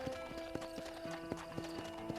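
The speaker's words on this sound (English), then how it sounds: "apparently I can't make my horse go any faster" Horse hooves clip-clopping in a steady trotting rhythm while riding in the Red Dead Redemption video game, close and clear with faint game ambience beneath.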